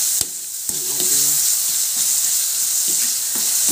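Pork adobo sautéing in a pan used earlier for frying saba bananas, a steady loud sizzle with a couple of sharp clinks of a utensil near the start.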